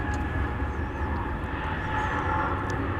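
A heavy jet taking off at night from DFW Airport, a steady loud engine roar with a rushing broadband rumble and a faint high whine, heard without talk.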